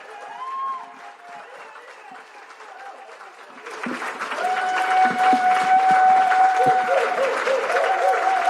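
An audience at a youth leadership summit breaks into applause, starting as scattered clapping and swelling into a full, sustained round of clapping, with a voice speaking over it at the start.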